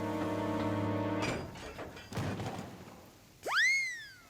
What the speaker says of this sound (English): Barge crashed through a pipe.